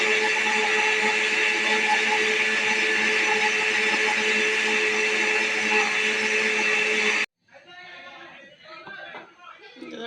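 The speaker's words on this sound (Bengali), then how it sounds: "দেখো একটু ব্লেন্ড করছি।" Electric blender whirring through food at full speed for about seven seconds, a loud steady motor drone that cuts off abruptly, followed by people talking.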